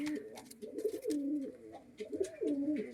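Pigeons in a loft coo in soft, rolling repeated calls, fairly close, with faint rustling in the background.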